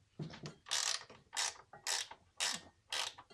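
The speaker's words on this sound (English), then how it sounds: "So I'm going to loosen this acorn right here." Ratcheting creak as an acorn nut is loosened on motorcycle batwing fork hardware, five or six close, loud bursts of clicking in a steady rhythm with short pauses between, no talking.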